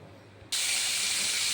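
Potatoes and onions hitting hot oil in a pan: a sudden loud hiss bursts in after a quiet moment and holds as a steady, bright sizzle, with no talking.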